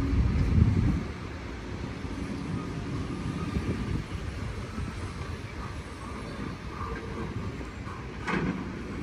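Two pieces of heavy equipment, backhoes, run together at Dolomite Beach on Manila Bay. Their engines give a steady low diesel drone and rumble, heard from a middling distance with faint clanks, and a slightly louder surge comes at the start.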